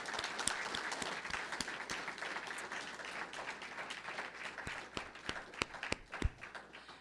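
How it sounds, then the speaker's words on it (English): Audience applause fills a hall after a literary fellows' reading, steady dense clapping throughout with a few sharper individual claps standing out near the end. "Please join me in giving a huge round of applause to Tracy and to Sterling."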